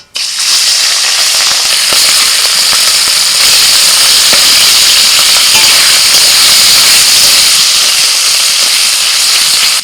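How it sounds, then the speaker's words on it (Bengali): Shrimp frying in hot oil in a wok gives a loud, dense, steady sizzle that starts abruptly and hisses on without a break. "প্রথমে চিংড়ি মাছটা ভেজে নিচ্ছি"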